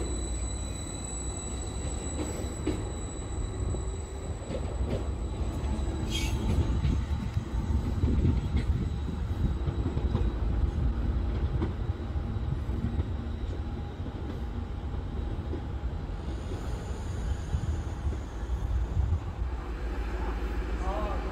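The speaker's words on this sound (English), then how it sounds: "755411 is now departing to Ipswich." Train 755411 departs Lowestoft station for Ipswich, a low steady rumble and rolling hum at moderate distance with faint squeals, voices talking quietly over it.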